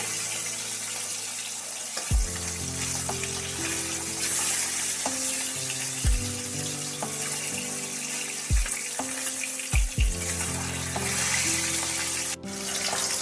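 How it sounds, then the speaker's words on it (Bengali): Pieces of rohu fish fry in oil over a high gas flame, giving a continuous close sizzle broken by several dull thuds and knocks at irregular intervals. "গ্যাসের ফ্লেমকে হাইতে রেখে মাছগুলো একটু মাঝারি মাপের করে ভেজে নিতে হবে"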